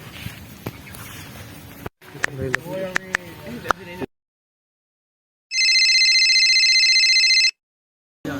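A phone call being placed in a comedy skit: a few tapping knocks, then a hush, followed by a steady, bright electronic ringing tone lasting about two seconds before cutting off.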